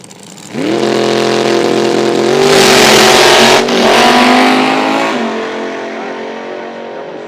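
A small block Chevy dragster with fuel injectors idles and then revs hard at a drag strip. The engine note is loud and close, rising and falling through a long rev before settling back down.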